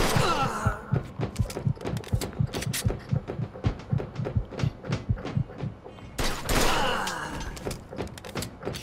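Rapid gunfire in the video game Mafia 2, dozens of sharp percussive shots in quick irregular bursts over several seconds, with a brief louder burst of noisy clatter near the end.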